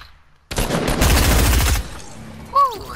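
Video game gunfire: a sudden loud burst of rapid automatic shots lasting over a second, then a sharp cutoff to quieter background, with a brief voice-like sound after.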